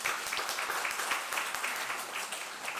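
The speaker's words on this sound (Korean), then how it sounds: "자, 돌아서셔서 인사할 때에 축하의 박수하겠습니다" Congregation at a Korean Sunday church service claps together in celebration, a steady dense patter of many hands at moderate distance with no talking.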